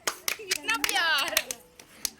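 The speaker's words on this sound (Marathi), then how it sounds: "भाई साहब टाळ्या टाळ्या टाळ्या" Several people clap their hands in a short, uneven burst of sharp claps while someone talks over them.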